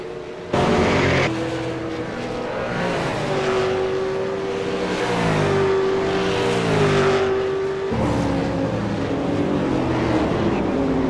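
A V8 Supercar engine in a racing game, on the Montreal circuit, revs and lifts through repeated throttle changes, its pitch sweeping up and down steadily while a commentator speaks over it.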